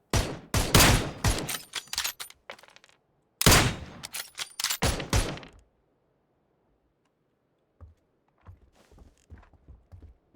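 Bursts of rapid gunfire in PUBG crack in quick sequences, two heavy volleys followed by silence, then a few sparse, quieter shots near the end.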